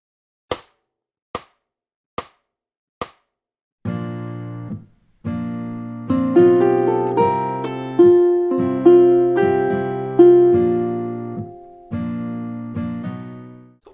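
Ukulele and acoustic guitar play two measures of a melody together at a slowed tempo, following four sharp count-in clicks.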